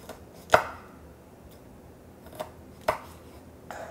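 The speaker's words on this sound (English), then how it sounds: "we're going to start by slicing up our red pepper" A knife slices through a red pepper on a cutting board, giving a few sharp, separate cuts spaced irregularly over a few seconds, close and fairly quiet against a still kitchen.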